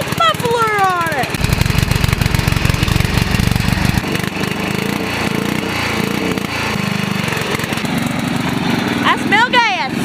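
A motorcycle engine fitted with its original muffler runs loud and close with a steady, buzzing idle that rises and falls as it is revved. Voices can be heard over it.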